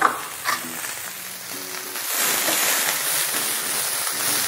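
Chinese cabbage stir-frying with spring onion in a pan for vegetable Hakka noodles, a steady close sizzle that swells louder midway, with light tossing and clinking and no speech.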